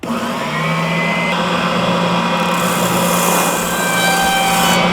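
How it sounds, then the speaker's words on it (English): A 1-inch spindle sander drum grinds against a block of styrofoam, giving a steady, loud motorized whine with a dense, even abrasive roar that holds constant throughout. "it actually fits perfectly on this 1-inch spindle sander drum"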